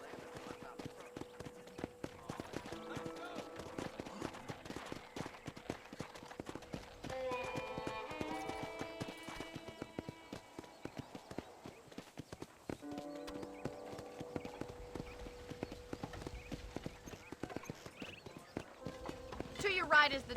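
Rhythmic clip-clop of a horse's hooves galloping in the video game Red Dead Redemption, steady and fairly close, with game music swelling underneath and a voice speaking over it.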